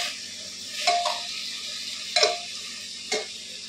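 Rice and peas are stirred in a cooking pan over a low-to-medium flame: three distinct scraping, knocking strokes of the spoon spaced about a second apart, over a faint background sizzle.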